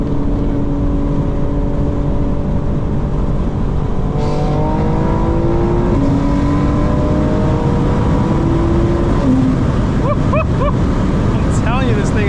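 Loud in-cabin roar of a 900 hp 2025 BMW M4 Competition engine dropping a gear and accelerating, tones climbing and shifting, with rapid rev blips near the end over steady wind and road rush.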